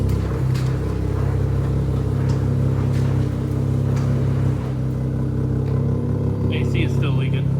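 A Mazda RX-7 rotary engine idles as it warms up, a steady, close low drone that runs unbroken throughout with faint scattered clicks over it.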